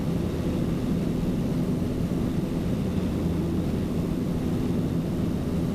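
A Piper PA28 Cherokee light aircraft's engine drones steadily during climb-out after takeoff, a loud continuous cockpit roar with no break.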